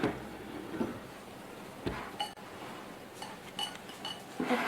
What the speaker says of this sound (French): Maintenant, nous allons mélanger